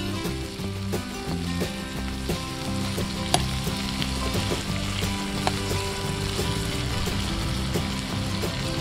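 Tomatoes, garlic and onions fry in a pan for a spicy Indonesian sambal, giving a steady, dense sizzle that holds at an even level throughout, with occasional faint clinks and small pops over the crackling.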